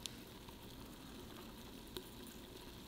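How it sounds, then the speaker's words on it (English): Grapes and blackberries carbonated with nitrous fizz and crackle very faintly. The sound is a soft, continuous hiss with a couple of tiny pops and nothing else. "You can literally hear the fruit sizzling."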